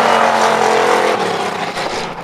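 Race cars in a Bombers class race on an oval track at the KRP Oval, engines roaring loudly together at the start, a dense continuous rumble that eases slightly as the pack pulls away.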